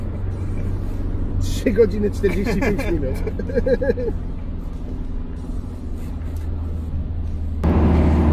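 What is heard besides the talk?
1990 Mercedes W124 200D diesel car driving at about 100 km/h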